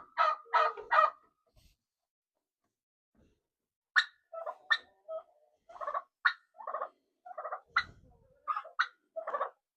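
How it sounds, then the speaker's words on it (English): Chickens let out of their coop before an ice storm, clucking and squawking in scattered bursts close by, with a pause before a busier run of calls. "I'm gonna let the chickens out."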